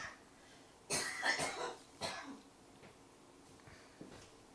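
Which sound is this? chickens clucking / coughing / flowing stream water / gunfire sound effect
coughing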